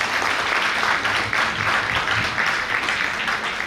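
Steady audience applause at a medical school alumni evening event, a dense, even wash of clapping from a large crowd throughout.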